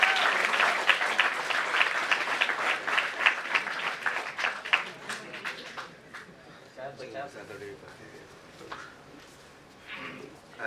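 An audience at a Republic Day celebration applauds loudly and steadily, the clapping tapering to scattered claps as it fades.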